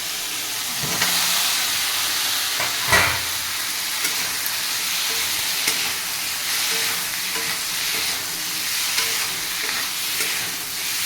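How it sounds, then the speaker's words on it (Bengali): Potatoes fry in spice masala in a hot pan, a loud constant sizzle and hiss with occasional stirring scrapes and a couple of sharper knocks, close and continuous throughout. "মশলা কষানো প্রায় হয়ে গেছে বন্ধুরা আবার আমি সেটা করা আলুগুলো দিয়ে দেবো"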